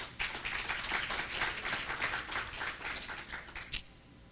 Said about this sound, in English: Give God a hand clap for that.